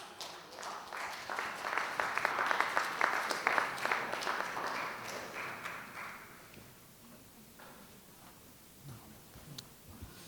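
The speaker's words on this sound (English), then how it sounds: "please welcome him with a big round of applause" An audience at a congress meeting applauds to welcome a speaker to the stage, a crowd of claps swelling for several seconds and then fading into scattered, quieter clapping.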